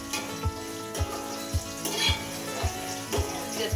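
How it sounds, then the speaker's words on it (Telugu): Sliced onions frying in hot oil for a Krishna river fish curry, with a steady sizzle under regular rhythmic low knocks of stirring about every half second, moderately close. "ఆయిల్ హీట్ ఎక్కింది. ఇప్పుడు మనం హాఫ్ ఆనియన్ కట్ చేసుకున్నాం కదా, అవి వేసుకోవాలి. ఫ్రై చేసుకోవాలి."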